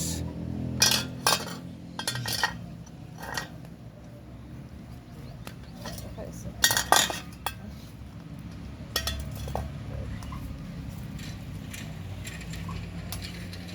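Cochinita pibil being mixed in a pot over a campfire outdoors, with repeated metallic clinks and scrapes of a utensil against the pot in irregular bursts, set against a steady low background rumble and occasional faint birdsong.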